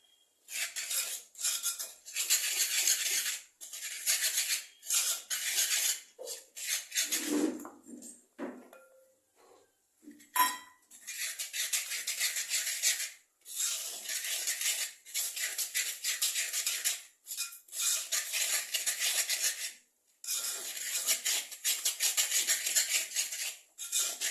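A spoon stirs country sugar into creamed butter for wheat biscuit batter, with steady scraping and clinking against the bowl in bursts separated by short pauses, close and fairly loud, with no talk.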